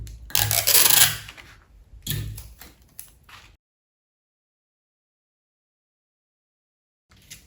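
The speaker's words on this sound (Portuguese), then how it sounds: "Você pode colocar cola ou pode colocar o durex, como eu estou fazendo" Adhesive tape being pulled and pressed onto a paper sewing pattern, with crinkly tearing and rubbing close by in two short bursts, then quiet.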